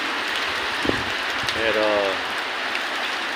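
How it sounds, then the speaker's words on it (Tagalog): Heavy rain falls steadily outside a third-floor house, a dense, constant hiss filling the whole clip, with a brief voice and a faint tonal sound over the downpour. "Lakas po ng ulan guys"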